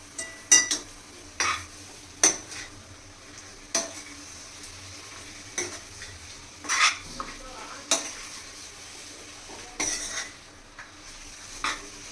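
A spoon scrapes and clanks against a pan while Andhra-style fish curry ingredients are mixed, giving sharp, separate metallic strokes every second or so over a faint sizzle, close and with no talking.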